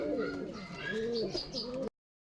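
Male and female pigeons coo at a crowded pigeon market in Nowhata, Rajshahi, with several close, rolling coos and faint chirps that stop abruptly after about two seconds.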